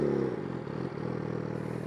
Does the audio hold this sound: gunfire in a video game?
no